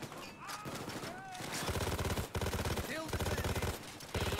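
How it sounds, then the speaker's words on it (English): Sustained automatic gunfire sprayed in the heist game Payday 2, with dense rapid bursts that stop and restart, loud and close, while a voice talks briefly over the shooting. "That was a lot of bullets sprayed for no purpose."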